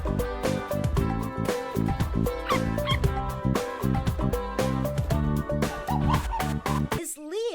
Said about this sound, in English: I am a junior ranger, and this is my puppy, Hero.